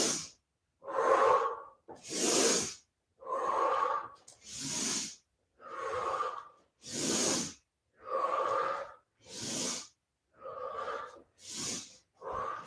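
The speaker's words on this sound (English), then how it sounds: "In through your nose." Loud, close breaths during an exercise routine come in a steady alternating cycle, about a dozen hissing airy strokes over several seconds, each separated by a brief pause, with no talking.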